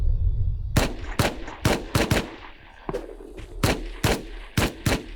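Gunfire during a raid in the survival video game Rust, a rapid string of about a dozen loud, sharp shots in uneven bursts, close and crisp with no talking over them.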